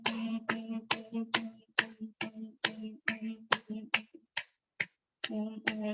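During a yoga session, one or more people clap in a steady rhythm while chanting Om, about a dozen sharp claps each paired with a voiced Om, close and clear with brief pauses.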